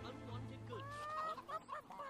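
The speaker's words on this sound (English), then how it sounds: "Ah, more chickens." Chickens cluck softly in the video game Fable 3, a few faint warbling calls drifting over a low background hum.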